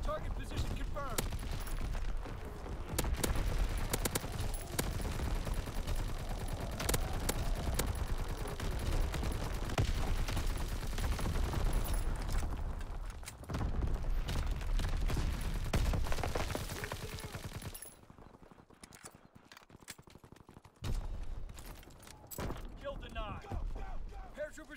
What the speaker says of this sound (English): Firing primary battery.